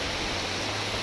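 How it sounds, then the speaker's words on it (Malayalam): Strong wind and heavy rain during a monsoon flood, a steady broadband roar that fills the whole short stretch without letting up and carries no voices. "നല്ല കാറ്റും മഴയാണ്"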